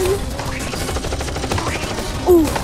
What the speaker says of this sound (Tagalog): Binabaril pa tayo ni Barry's the Robot, Mega Robot.